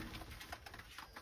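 Domestic pigeons in a loft coo softly while feeding: faint, low, rolling calls that repeat in quick succession, heard alone at low volume.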